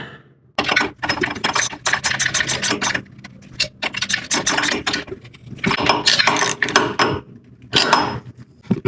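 A ratchet wrench snugs down hydraulic transfer tubes on a Weddle Industries S4D transmission, giving repeated bursts of close, crisp clicking and metallic rubbing with brief pauses between strokes.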